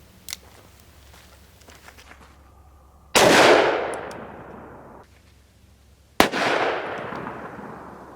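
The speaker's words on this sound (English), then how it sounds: "next we're going to be shooting the Sarcelmaz 38 in 357 Magnum" Two loud, sharp revolver gunshots from a Smith & Wesson .38 firing .357 Magnum rounds, a few seconds apart, each a hard crack followed by a long echoing decay outdoors.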